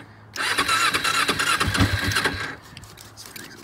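A motorcycle engine cranks and catches in freezing cold, sputtering into a loud, uneven choked idle for about two seconds before cutting out to quiet.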